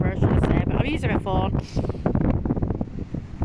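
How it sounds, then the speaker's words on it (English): Strong wind on Blackpool and Cleveleys beach buffeting a phone microphone, heavy low rumbling gusts and thumps that nearly bury someone talking loudly over them. "It's very windy and I do apologise, I don't have a mic."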